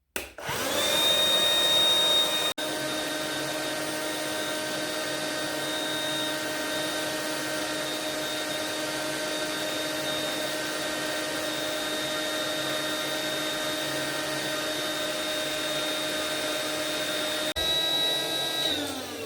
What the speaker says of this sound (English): Or you can fill up with air this mattress, connect the hose, on,